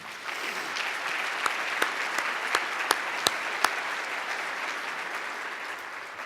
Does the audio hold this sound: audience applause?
yes